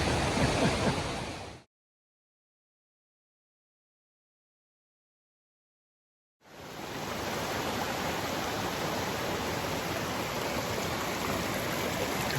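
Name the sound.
creek and waterfall flowing in the Georgia wilderness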